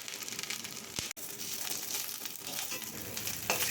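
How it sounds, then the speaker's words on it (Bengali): Semolina snack pieces fry in hot oil in a pan, giving a steady, close crackling sizzle with brief bursts of stirring and no talk. "এভাবে আমি সবগুলোকে ভেজে নেব।"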